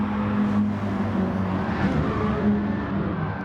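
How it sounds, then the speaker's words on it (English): Race car in a sim racing event at Laguna Seca, engine droning steadily with a faint tyre squeal and scrub running under it, fairly close and continuous, no talk. "Thought I heard tyres."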